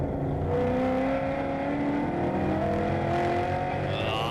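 V8 Ute race cars roar around the Winton circuit, several engines droning and revving together in a steady loud mix as cars accelerate past, with no voices.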